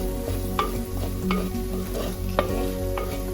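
A spoon presses and stirs tomato into spice powder in a sizzling pan for Kerala fish curry, giving repeated scraping taps at an uneven rhythm over a constant close frying hiss.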